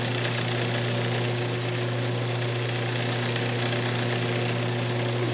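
A wood lathe spins a square wooden bowl during fine sanding with 600 grit, holding a loud, steady mechanical drone with a constant humming tone from start to finish and no talking.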